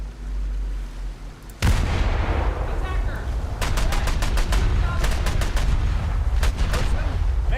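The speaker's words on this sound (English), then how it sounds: "This one gets a Bofors cannon, but it's stuck on the back." A Bofors cannon fires aboard a warship in a naval video game battle: a sudden loud onset, then repeated rapid bursts of heavy gunfire over a dense, roaring battle din, close and intense.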